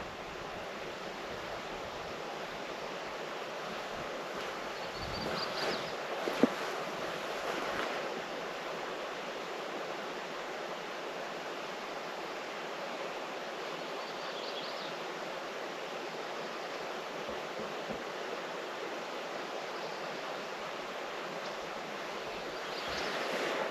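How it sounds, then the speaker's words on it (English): Wind blowing steadily across a pond outdoors, a broad, constant rushing noise at moderate level with a few brief gusts and thumps against the microphone. "The wind just picked up."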